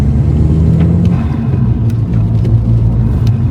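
A 1.2 TSI engine with its backbox deleted drones loud and low from inside the car, a steady rumble with a slight rise in pitch carrying intake noise.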